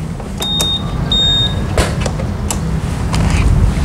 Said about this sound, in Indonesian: Terus langsung aja kita buka bagasinya.